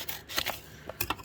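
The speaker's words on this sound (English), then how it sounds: "Apparently I'm using scissors wrong." Scissors snipping at a delivery package, a few quick close crisp cuts in two short pairs.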